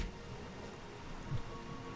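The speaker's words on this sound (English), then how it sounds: "It raining for this entire time is very appropriate for all the water elementals we're fighting." Steady rain falls in the World of Warcraft video game at a beach, a soft continuous hiss with a faint low rumble near the end, quiet and without voices.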